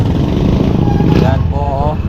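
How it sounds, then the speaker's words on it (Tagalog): Motorcycles and tricycles rumble past on a busy street, their engines droning loudly and close under a person talking throughout. "marami rin mga motor o tricycle."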